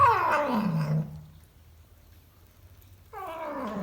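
A female cat lets out a long, drawn-out yowl that slides downward, then a pause, then another whiny meow begins close to the listener.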